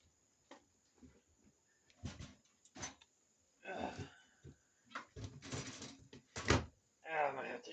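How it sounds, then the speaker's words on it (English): A door on a farm is worked open with scraping and knocking bursts between pauses, while a person talks and coaxes a cat nearby. "So I can get this door open."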